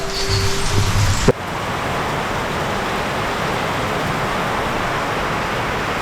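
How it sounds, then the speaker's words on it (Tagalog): Heavy typhoon rain pours down in a steady, unbroken roar that fills the air after a brief, different sound at the start. "Tanghali na pero ulan pa rin."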